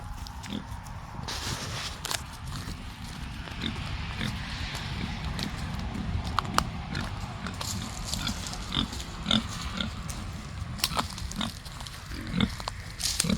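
Pigs in a farm pen grunt and snuffle steadily up close, with scattered oinks, chomping and shuffling movement running throughout.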